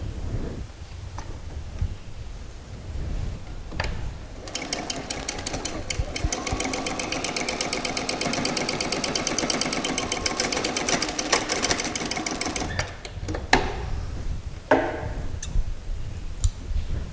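A sewing machine stitches down a pocket on a pair of shorts in one sustained run of rapid, even needle clatter of about eight seconds, framed by quieter handling noises and faint clicks before and after.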